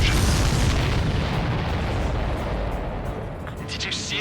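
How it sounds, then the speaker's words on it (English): A loud explosion in the Ace Combat 7 combat flight video game: a heavy, broadband roaring boom that rumbles continuously and slowly fades over about four seconds. "Did you see that explosion?"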